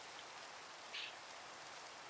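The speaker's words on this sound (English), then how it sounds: "Was it raining, dude?" Steady rain falls in the Minecraft video game, a soft, even hiss of drops that continues unbroken, with one brief brighter spatter midway.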